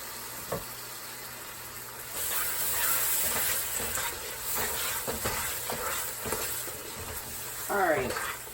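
A half cup of cream being stirred into a cooking sticky bun kolache mixture, with scraping strokes and a soft sizzle at close range, brief clanks between stirs and no talking.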